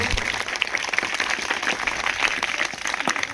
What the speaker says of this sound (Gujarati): આપણે એમને જોરદાર તાળીથી વધાવીશું